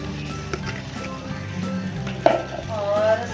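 Chickpeas for Lahori murgh cholay hit a hot pan of frying spice mix, setting off a loud, close, continuous sizzle with stirring clatter and a sharp spike partway through.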